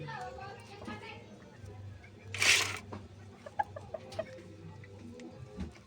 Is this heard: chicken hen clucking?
yes